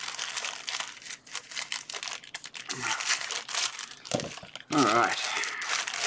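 Plastic packaging bags from an online electronics order crinkle and rustle loudly as they are cut open with scissors, with a person briefly speaking over the handling noise.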